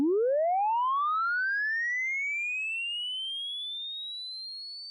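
A pure synthesized sine tone generated from a wave function sweeps smoothly upward from low to very high pitch, steady and clean, slowly fading, with no other sounds.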